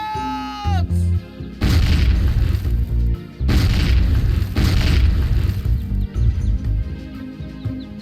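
Grenade blasts in the World War II strategy game Faces of War, several heavy booming explosions in quick succession, each loud with a rumbling tail, following a short whistling tone.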